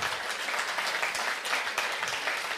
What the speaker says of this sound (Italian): Applausi meritatissimi.